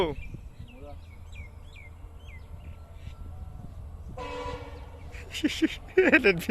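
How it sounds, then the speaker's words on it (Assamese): A train rumbles along, with high chirps early on, then a sustained horn blast partway through and loud, clanging tones toward the end. "ফাইনেল ট্ৰেইন আহি গ'ল"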